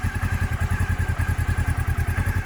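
A Honda CB500S motorcycle idling at low revs, its clutch basket rattling in a steady, fast, even pulse over a low engine thrum, close and moderately loud with no talk.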